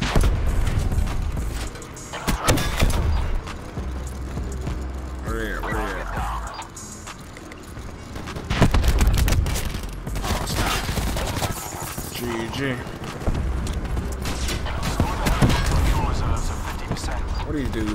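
Scattered gunfire crackles through a Black Ops 4 multiplayer match, mixing rapid bursts with single shots amid busy game noise, while a player talks over the action.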